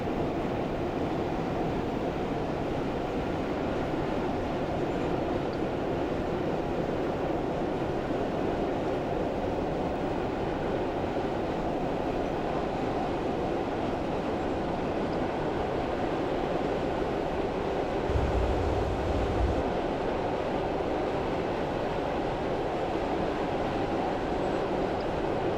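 Class 117 diesel multiple unit in Train Simulator 2016 on the Radstock to Frome Market line, gathering speed toward 30 mph, with a steady, unbroken engine and rail rumble throughout.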